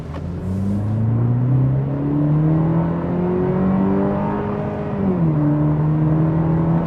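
A 2026 Cadillac CT4 Premium Luxury accelerates hard in sport mode from second gear with boost, its engine note climbing steadily in pitch, dipping briefly at a shift, then pulling on, loud and close with no talking.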